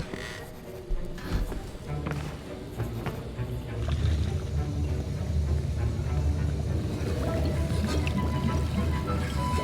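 Stirring a potion in a cauldron in Hogwarts Legacy: continuous liquid swishing and bubbling, louder in the second half, mixed with game music and voices talking.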